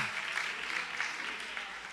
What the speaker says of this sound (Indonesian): Ayo tepuk tangan yang meriah